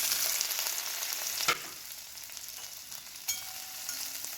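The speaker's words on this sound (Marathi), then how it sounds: "कांदा चांगला परतून घ्यायचा." Chopped onion frying in hot oil with popped mustard seeds in a kadhai, cooked for a drumstick flower subji. A steady, close, bright sizzle runs throughout, broken by a couple of sharp stirring clicks.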